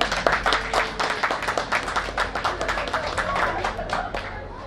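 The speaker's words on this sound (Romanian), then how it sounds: "Hai să-l aplaudăm!" A small group claps in an uneven, rhythmic patter at a Romanian gathering, the individual hand claps distinct and moderately loud for several seconds.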